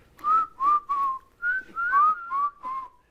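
Someone whistles a short melody of about eight clear, bright notes, with brief pauses between phrases.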